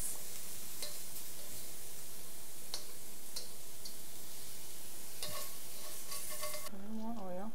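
Shrimp frying in oil in a pan, a steady close sizzle with occasional sharp ticks and pops, and a brief tonal sound near the end.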